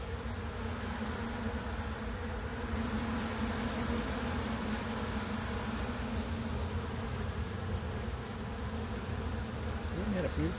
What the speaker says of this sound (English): Bunch of bees. Listen to this.